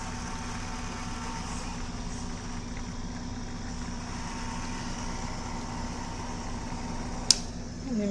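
Steady mechanical whir and hum from the spinning wheels of a repaired Silent Partner tennis ball machine, constant and close with a low motor drone, ending with a brief sharp click.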